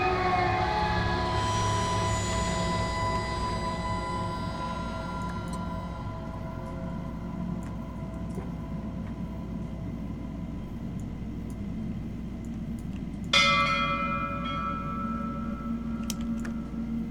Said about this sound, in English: I rang the bell.